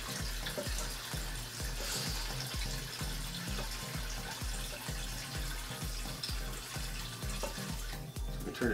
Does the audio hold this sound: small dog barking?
no